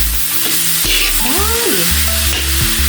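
Shredded cabbage stir-fries for a spring roll filling, making a loud, dense sizzle close by. A few sliding tonal squeaks and scrapes from stirring sound over it.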